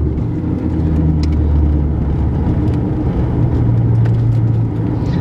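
A lowered manual-transmission car rolls slowly over a series of speed bumps, its engine droning steadily and loud, close up, with faint bumps and knocks from the suspension and no talking.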